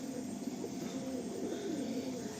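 Malwai pigeons at a pigeon keeper's loft in Howrah, cooing in a steady low murmur that runs continuously at moderate loudness.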